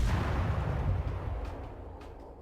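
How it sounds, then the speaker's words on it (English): Battleship artillery in a naval combat game booms as a deep rolling rumble, with distant heavy fire continuing and slowly fading over a couple of seconds. "some battleships over there that are firing at him"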